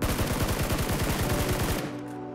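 A FAMAS rifle in the video game PUBG fires a rapid, continuous automatic burst of evenly spaced shots for about two seconds, then stops abruptly and a short ringing tail fades out.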